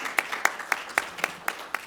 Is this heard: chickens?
no